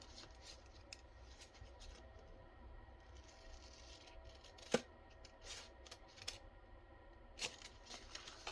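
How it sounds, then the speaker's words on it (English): Scissors cut a part off a tall paper envelope. The snips are faint and sparse, with a few sharp clicks over a quiet, hissy room. "So I'm going to cut this off."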